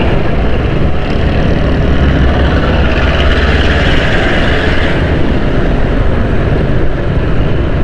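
A motorbike speeds up along a highway leaving Karachi, a steady broadband engine and wind roar that holds loud and continuous throughout, with no talk.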